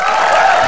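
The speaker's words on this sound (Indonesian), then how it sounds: "Sekali lagi tepuk tangan untuk ketiga peserta kita dong." Studio audience applause for three contestants on an Indonesian TV game show, a brief, loud, steady burst of clapping with no break.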